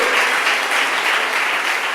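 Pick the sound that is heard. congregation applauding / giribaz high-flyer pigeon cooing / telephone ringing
congregation applauding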